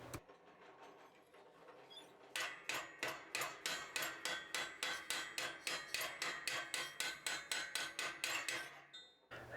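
Hammer forging a hot steel bar into a cooking fork on an anvil, a steady fast run of ringing blows after a quieter opening stretch, close and loud, with no talk.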